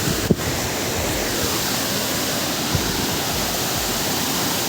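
Water pours down at Padale dam in a continuous, even rushing roar that fills the whole stretch, close and fairly loud, with no voices.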